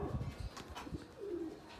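Racing pigeons returning to the loft after a 156 km training flight coo softly in a short, low burst amid faint background noise.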